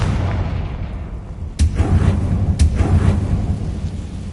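A Confringo fire spell in Hogwarts Legacy bursts twice, each a sudden sharp crack followed by a rolling, booming rumble, loud and close against a low continuous background.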